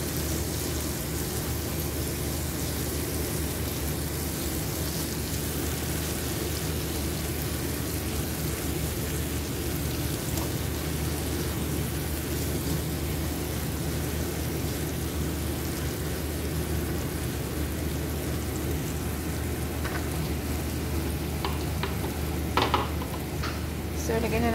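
An egg fries in a pan for breakfast, giving a steady, even sizzling hiss throughout, with a couple of faint clicks near the end.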